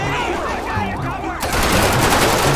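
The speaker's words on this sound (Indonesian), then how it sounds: "ada yang nembak dari atas" Gunfire from above in the video game GTA 5 (Grand Theft Auto V), a police chase scene: bursts of rapid automatic shots swell suddenly to a loud, dense volley halfway through, with siren-like tones and faint voices underneath.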